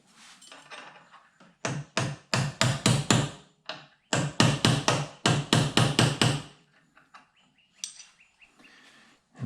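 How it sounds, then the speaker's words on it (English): Loud metallic strikes of a hammer on a punch knocking out bolts during power pole repair, in quick rhythmic bursts, two runs of rapid ringing blows separated by a short pause, close and sharp. "I got a punch and a hammer here to get these bolts out."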